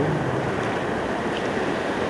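High ocean waves break on a wild shore in a steady, loud, continuous roar and wash of surf with wind noise, no voices.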